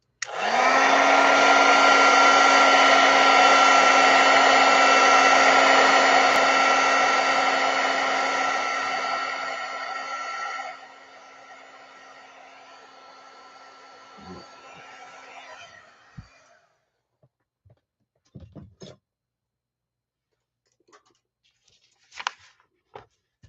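A heat tool blows steadily over wet paint on paper, a loud whirring drone that cuts off partway through, leaving faint scattered taps and rustles of handling.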